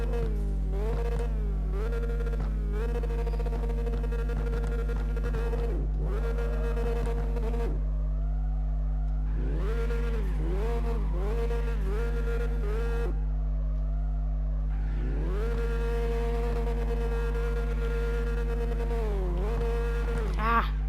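Drifting car engine in CarX Drift Racing Online, a steady droning whine that rises and falls in long sweeps as the revs climb and drop, with brief gaps between runs, loud and continuous throughout.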